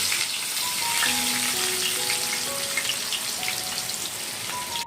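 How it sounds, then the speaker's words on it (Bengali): Small chopped onion fries in hot oil for a Bengali doi rui recipe, a close, continuous crackling sizzle with a few popping spits and no talk throughout. "আর সেটা এখন ভেজে নেওয়ার জন্য দিয়ে দিলাম"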